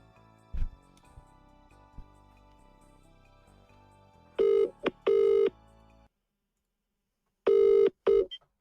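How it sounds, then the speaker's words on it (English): A telephone call is dialed with a few short tone beeps, then two bursts of a loud, steady ringback tone sound close and clear, separated by a short silence, with faint talk at the start. "Joe, I'm going to phone you."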